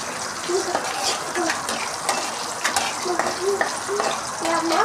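Dried turkey berries fry in hot oil for a tangy tamarind-style curry, making a dense, continuous crackling sizzle up close.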